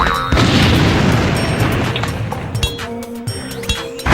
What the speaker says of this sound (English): Watch out for those moon booms!